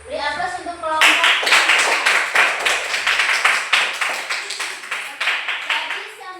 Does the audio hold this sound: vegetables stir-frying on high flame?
no